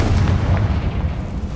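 Confringo fire spell explosion from Hogwarts Legacy, a heavy, booming low-end blast that rolls on steadily and close for the whole moment.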